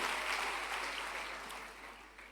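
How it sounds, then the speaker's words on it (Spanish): Applause from a congregation during a Spanish-language church service, a dense, steady patter of clapping that fades gradually over a couple of seconds with no voices over it. "Denle una ofrenda de palmas al Señor."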